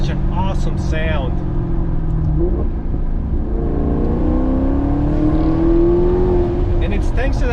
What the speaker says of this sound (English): This car just makes such an awesome sound.